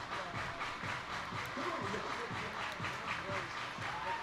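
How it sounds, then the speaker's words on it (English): Crowd at a minor league baseball game, Reading Fightin Phils against Bowie Baysox, clapping in a rhythmic steady pulse through the stadium, moderately distant, over a continuous crowd murmur and music. "Everybody clap your hands."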